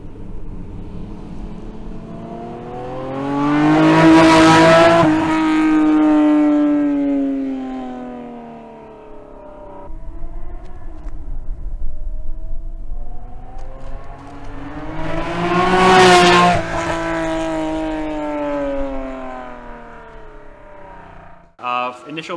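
A Honda NSX on winter tires drives on a frigid winter day at minus twelve degrees, its engine swelling through two loud revving pulls that rise and fade, with a steady whir carrying between them.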